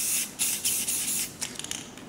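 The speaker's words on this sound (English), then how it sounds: "Spray some white" A can of white spray paint hisses in short bursts onto a folded magazine sheet for spray paint art, with about five or six quick sprays separated by brief pauses, close and moderately loud, with no talking.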